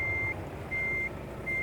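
Steady reversing beeps from a truck in the game Euro Truck Simulator 2, three evenly spaced tones repeating at a regular pace over a low, constant engine rumble.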